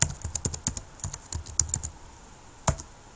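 Quick bursts of keystrokes on a computer keyboard entering a command at a program's main menu, close and crisp with short pauses and one firm final key press, no talking.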